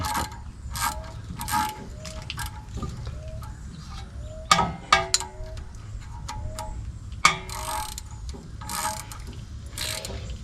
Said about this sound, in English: It's the only thing bad about ratchet wrenches, if it's real loose, you're gonna be fighting it trying to get it back in there.